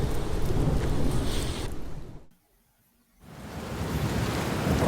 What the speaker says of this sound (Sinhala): වේගයෙන් වහිනවා.